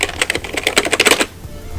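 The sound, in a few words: typing on old membrane computer keyboard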